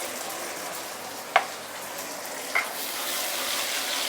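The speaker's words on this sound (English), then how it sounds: "garlic, ginger, fresh coriander roots, and also shallots, and the curry leaves. Saute this for a minute or 2 before we continue." Garlic, ginger, coriander roots, shallots and curry leaves sautéing in a claypot, a steady close hiss of frying with two brief clicks of a utensil.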